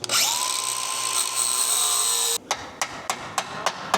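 An angle grinder cuts into a part on a Kia K3 GT, a loud, steady high whine that stops abruptly and gives way to a series of sharp metallic taps.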